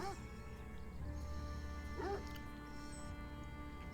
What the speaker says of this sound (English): No, it just is a dog.